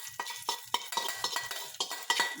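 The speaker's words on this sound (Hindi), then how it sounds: "दाल के ऊपर ये ऐसा तड़का डाल" Hot tadka tempering poured over cooked dal and stirred, a soft sizzle under a steady rhythm of spoon strokes scraping the pot, close and fairly quiet with no voices.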